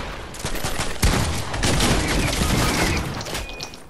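Loud, close gunfire in Fortnite, a dense burst of shotgun blasts overlapping into a continuous crackling fusillade with one sharp heavy shot near the middle, nearly four seconds long with no talking.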